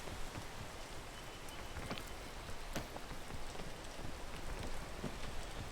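Rain falls in the mountain-climbing video game PEAK, a constant close wash of dense raindrop patter spattering across surfaces with scattered sharper drops and no voices.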